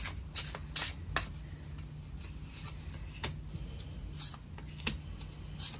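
Tarot cards being shuffled for a Capricorn love reading: soft continuous rustling with several crisp riffle bursts, close and fairly quiet over a low room hum.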